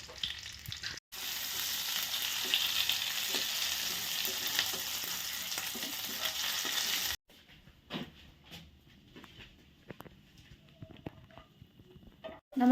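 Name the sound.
cardamom and whole spices frying in hot oil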